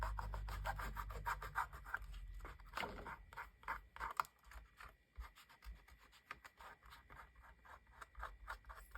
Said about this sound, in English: You just have to rub off a light coating.